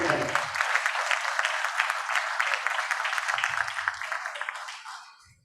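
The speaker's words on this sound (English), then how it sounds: "a big applause for this wonderful panel" Dense, steady applause from an audience at an advertising-industry panel event, the crowd clapping loudly and evenly for several seconds before fading away, with a faint voice near the start and end.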